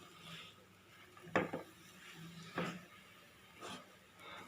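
Beetroot poriyal is stirred with spice powder in a pan, a spoon clattering against the metal in three distinct scraping strokes spaced about a second apart over a quiet kitchen background.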